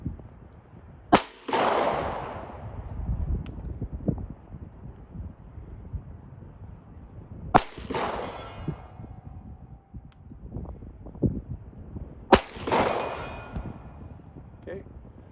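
A Walther PDP pistol is fired three times at 100 yards outdoors, each sharp, loud report spaced several seconds apart with a decaying echo, and faint wind and background noise between the shots.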